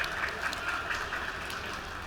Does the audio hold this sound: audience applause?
yes